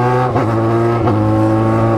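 Yamaha XJ6 motorcycle engine held at steady high revs during clutchless gear shifts, a loud sustained droning whine with brief dips in pitch at each shift.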